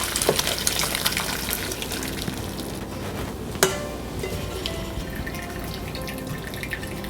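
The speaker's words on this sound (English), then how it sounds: "Strain our broth." Broth poured through a strainer while making seafood risotto gives a continuous liquid gush and trickle with drips, punctuated by one sharp clank midway.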